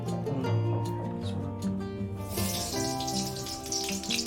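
Running water from a kitchen tap splashes over raw chicken meat as it is washed, a close, gurgling stream that gets brighter and splashier halfway through, with steady tonal background sound underneath.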